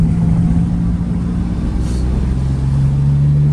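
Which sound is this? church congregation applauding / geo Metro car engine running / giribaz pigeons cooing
geo Metro car engine running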